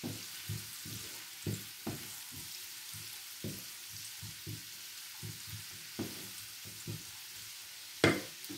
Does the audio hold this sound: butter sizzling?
yes